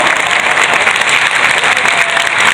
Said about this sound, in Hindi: जोरदार तालियां बजाकर इनका स्वागत कीजिए साथियों।